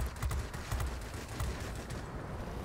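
Aircraft machine guns firing in the World of Warplanes flight game, a dense rapid burst of gunfire with repeated sharp bursts rolling over a steady engine drone, loud and close throughout.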